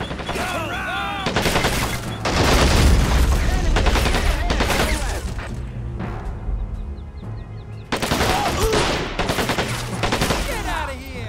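Sustained gunfire in the World War II strategy game Men of War: Assault Squad 2, set in the Hurtgen Forest: dense, loud bursts of machine-gun and rifle fire that overlap almost continuously, with a brief lull partway through.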